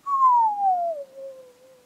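A short whistle imitating a 500 hertz tone glides downward from a higher pitch and settles low, fading near the end; single close whistler in a quiet room.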